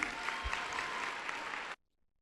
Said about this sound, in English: Please help us welcome Miss Wanda Adams.